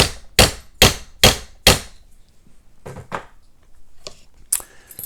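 Five sharp metallic hammer blows on an M6 molly bolt land in a steady rhythm, followed by quieter scattered clinks and taps.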